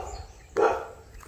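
A single short dog bark sounds once, moderately close, against quiet outdoor background on a Samoan farm.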